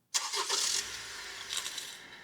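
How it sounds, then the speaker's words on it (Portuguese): A 2021 Honda HR-V engine cranks and catches sharply, then settles into a smooth idle, heard up close in a workshop with no one speaking. "Pode ligar o carro."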